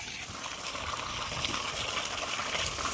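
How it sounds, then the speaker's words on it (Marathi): Water gushes loudly from an open valve in a water chamber, a constant close rushing and splashing flow with no talking. "आणि हे तिथून बघतो तर काय पाणी सगळं इथे चाललं आहे."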